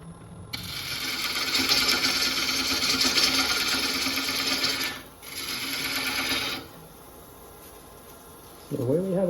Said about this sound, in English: using a very pointy skew I use for my dovetails, I'm going a little bit deeper, clean out it nice and tight